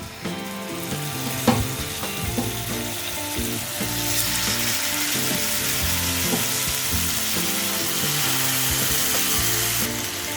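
Marinated chicken drumsticks for kebab sizzle steadily in a hot pan, with a few clinks and stirring scrapes early on before the frying settles into an even, continuous hiss.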